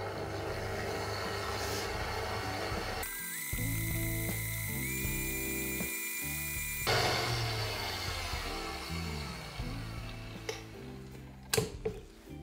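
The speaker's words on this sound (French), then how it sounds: "On remet le batteur en vitesse 1, 2 maximum." Electric hand mixer on its lowest speed working cold butter and cocoa powder into a sandy peanut-chocolate tart dough, a steady mechanical whir with rattling, ticking beater clatter that shifts pitch midway, no talking.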